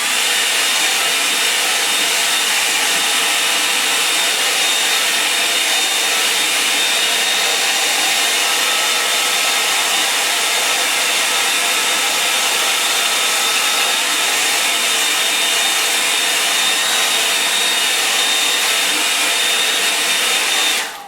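A hair dryer blows over a wet painting in a continuous, loud, even whoosh with a faint high whine, running alone for about twenty seconds before cutting off at the end.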